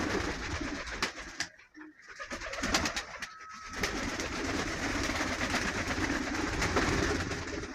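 Pigeons gather on a village yard to feed, cooing and fluttering close by, with wingbeats and scattered calls over a busy continuous background.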